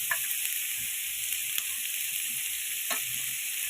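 Onions, mustard seeds and curry leaves frying in hot oil for a fish curry, a steady close hiss and crackle with a few faint stirring scrapes, no voices.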